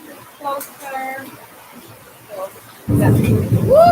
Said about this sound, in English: Can you hear the thunder roaring?